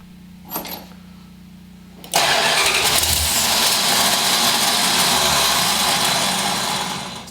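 A Plymouth engine fitted with FiTech fuel injection tries to start. A short bump comes first, then at about two seconds the engine catches with a loud, rough roar that runs on and eases slightly toward the end.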